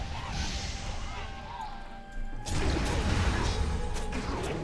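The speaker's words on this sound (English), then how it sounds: "Stomp. Shattering through while you're stomping." A heavy stomp impact from a World of Warcraft character ability, a sudden crashing thud that lands midway and spreads into a loud, sustained rumble, with background game sounds before it.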